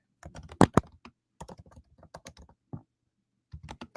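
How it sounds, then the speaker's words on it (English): Fingers tap on a computer keyboard in uneven bursts of close, crisp keystrokes, with short pauses between runs and no talking. "I can hear you typing"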